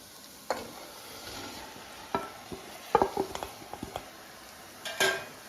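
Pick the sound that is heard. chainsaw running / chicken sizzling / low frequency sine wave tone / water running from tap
chicken sizzling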